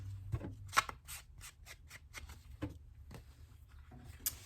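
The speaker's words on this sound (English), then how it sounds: "when you cut out your paper" Scissors snipping paper for a collage journal, a series of quick, crisp close-up cuts in an uneven rhythm in an otherwise quiet room.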